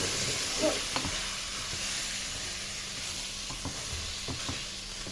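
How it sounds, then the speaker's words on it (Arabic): Rice, tossed with vermicelli, stir-fried in a pan, giving a steady close sizzle with scattered scraping taps of a spoon stirring, no voices. "هننزل بالرز الكميه اللي انت عايزاها بس، وهنشوحه مع بعض كده"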